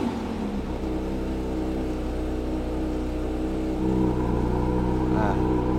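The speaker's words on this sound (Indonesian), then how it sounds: "tapi kita bisa dengar ganasnya suara mobil ini" A new Porsche 911 GT3 engine idles with a deep, steady exhaust drone, then rises into a louder, sustained rev near the soft limiter, close and loud.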